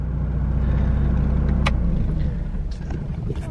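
A Fiat Cinquecento 700 engine fitted with a Fiat 126p carburetor runs loud and close with a heavy rough rumble, then settles lower near the end.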